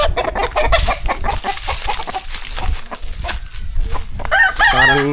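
Chickens cluck nearby with several bursts over steady farmyard noise, and a rooster crows loudly near the end, at a birthday gathering.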